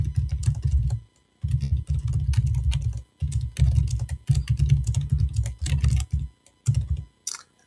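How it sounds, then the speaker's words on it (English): Close, steady keystrokes on a computer keyboard come in quick bursts of typing separated by short pauses, with no talking. "Let me just type this in."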